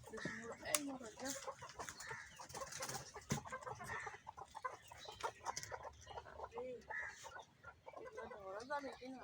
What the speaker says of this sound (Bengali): এই যে আমার দেশি মুরগি